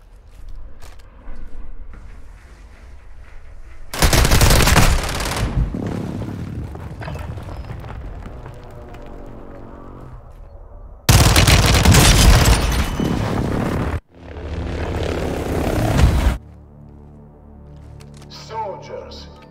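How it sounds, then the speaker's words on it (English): Airstrike blasts and gunfire rumble through a Warzone 2 battle royale match, with heavy loud explosive bursts separated by quieter stretches, and an in-game voice speaking over the action. "Hostile airstrike incoming."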